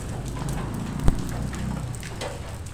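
Heavy rain falls in a steady, fairly loud wash of patter with a single sharp knock near the middle and no voices.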